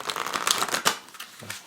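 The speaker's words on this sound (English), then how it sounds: "Table riffle shuffle." Oversized Piatnik magic playing cards get a quick riffle shuffle on a table, a brief, close burst of fluttering card slaps ending in a soft final tap.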